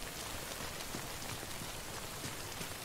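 Steady rain falling in Death Stranding, a dense even hiss of drops on surfaces with faint scattered patter, continuous and soft with no talking.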